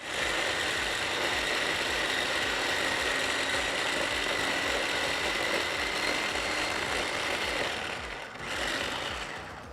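A kitchen blender whirs steadily as it purees basil pesto with olive oil, a loud continuous grinding motor noise that dips slightly toward the end, with no voices.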